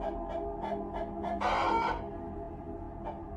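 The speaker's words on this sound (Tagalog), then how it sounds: "biglang naghiyawan ang mga manok sa kulungan ng mga ito sa likuran ng bahay" Chickens squawk and cluck from a coop behind a house, a burst of agitated clucking with one louder crow-like squawk in the middle, heard moderately close without talk.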